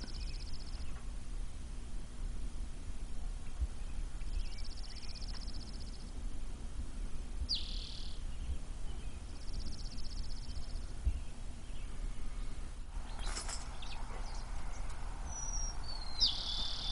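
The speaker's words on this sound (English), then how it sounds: "Let's see what the birds sound like from the front." Faint, intermittent bird chirps and calls over a steady outdoor background hum, with a few brighter calls near the end.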